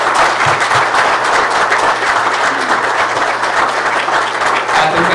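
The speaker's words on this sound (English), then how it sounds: "Last round of applause for today's inductees." Steady, dense applause from an audience fills a hall during a university hall of fame induction ceremony, sustained and even throughout, with no voices standing out.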